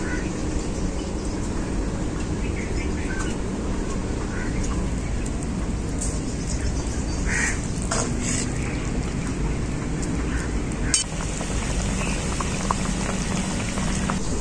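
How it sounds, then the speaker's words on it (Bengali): Fish curry gravy boiling hard at a full rolling bubble, with fried fish pieces added to the pot; a dense, steady bubbling hiss runs throughout, close and loud, broken by a brief clunk near the end. "ঝোল খুব ভালোভাবে ফুটে গেছে। এখন আমি ভেজে রাখা মাছগুলো দিয়ে দেবো।"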